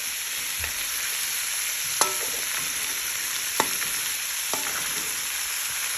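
Shrimp sizzling in a hot pan, a steady hiss of frying with a few sharp clinks of stirring, close and continuous with no talking.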